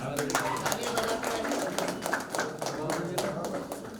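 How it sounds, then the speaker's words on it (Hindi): Spectators at a national school volleyball game clapping as a girls' player is called forward, quick irregular claps under ongoing talk. "ताली बजाओ"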